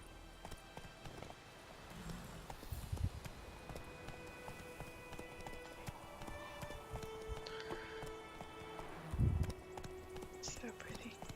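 Hooves of Roach, the horse in the video game Witcher 3, clip-clop quietly at a run beneath background game sounds and occasional voices, with a couple of louder thumps.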